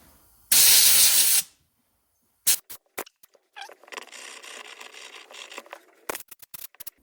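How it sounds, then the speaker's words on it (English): Brake cleaner sprayed from a can onto a part from an Iseki TH4335 compact tractor: one loud, steady hiss lasting about a second, then short air-blower bursts and a longer, rougher stretch of airline blowing, with sharp puffs at the end. "So in here we've got brake cleaner and an airline."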